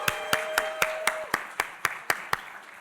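About ten crisp, evenly spaced hand claps follow at a steady brisk pulse, sounding like a small group or a single clapper rather than a full crowd, at a museum lecture held as an artist-in-conversation event.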